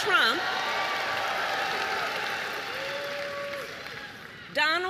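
An excited crowd at a political rally in Georgia, cheering and applauding in a steady, sustained roar with a voice rising over it and a brief louder burst near the end.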